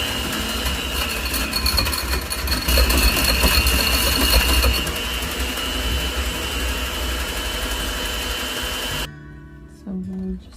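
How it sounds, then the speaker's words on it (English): An electric hand mixer beats egg yolks with baconaise, a loud, steady whirring drone close by that holds for about nine seconds before cutting off, followed by a brief faint clatter. "use the same mixer, beat those egg yolks and that baconaise"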